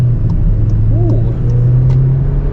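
VW T-Roc R-Line with a manual gearbox accelerating, a steady low engine drone heard from inside the cabin with a brief rising whine partway through, moderately loud and without talk.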